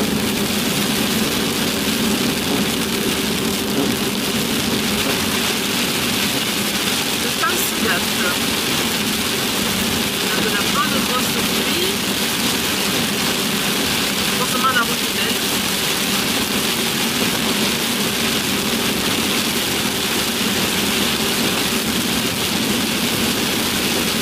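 An old, rickety car engine runs steadily while driving on a road in Chiapas, Mexico, a continuous low rumble with rattling throughout, close and constant, with no talk.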